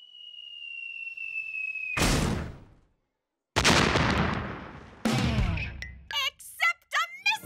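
Cartoon explosion and gunfire effects from an animated kids' show: three loud, booming bursts a second or so apart, each fading out, followed by a quick burst of animated voices.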